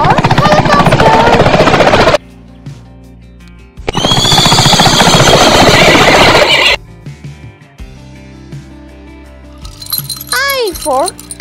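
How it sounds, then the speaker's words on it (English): A loud helicopter whirring and chopping plays for a few seconds amid cheerful music, with short bursts of voice and playful sound effects around it. "H for helicopter."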